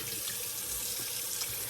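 Water dribbles off fingers into a 28 mm shaving brush, giving a close, continuous trickling splash with no pauses.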